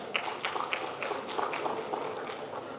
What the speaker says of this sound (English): Come on, a huge round of applause